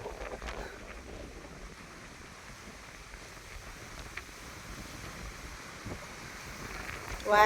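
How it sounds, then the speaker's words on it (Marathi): Strong outdoor wind blows steadily at the foot of a hill among swaying trees, a broad continuous rush with low rumbling buffets on the microphone and a sharper gust at the end. "वारा तर फारच आहे."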